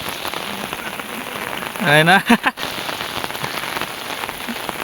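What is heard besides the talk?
heavy rain falling in a village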